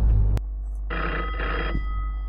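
A telephone bell rings in an indoor setting at night, a loud burst at the start followed by two trilling rings in quick succession, with no talking.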